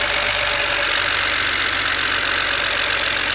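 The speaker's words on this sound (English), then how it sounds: "And it sounds like it's idling good." A BMW 335i with the N54 engine idles steadily after a fuel injector replacement, a close, even mechanical hum with a fine repeating tick and no voices.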